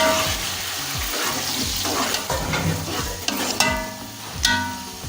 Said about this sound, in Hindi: टमाटर को हम अच्छे से फ्राई कर लेंगे ताकि ये अच्छे से मेल्ट हो जाए